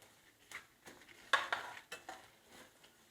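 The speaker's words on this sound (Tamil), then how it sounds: "எள்ளு நல்லா வதங்கிடுச்சு, வறுத்துட்டோம்" Spoon stirring sesame seeds and coconut roasting in a pan, with soft scrapes and light clinks in an irregular rhythm, close and fairly quiet with no talking.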